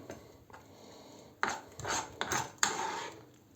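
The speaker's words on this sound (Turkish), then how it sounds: "Bu şekilde karıştırıyoruz." A homemade natural play dough mixture is stirred in a pot on low heat, with a utensil scraping and knocking against the pot in irregular strokes, some louder clanks among softer rubbing.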